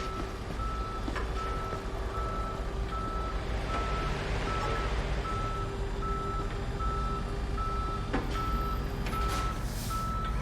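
A tow truck in the Police Simulator video game gives steady, evenly spaced reversing beeps while lifting vehicles, repeating over a constant engine rumble and traffic noise throughout.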